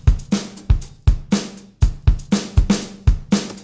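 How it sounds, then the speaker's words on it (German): Logic Pro's Bluebird drum kit plays a short groove: punchy kick drums alternating with snare hits and washes of cymbal, a regular beat with sharp attacks, close and clear, no voices. "Hier ist Logic's Bluebird Kit, das klingt so."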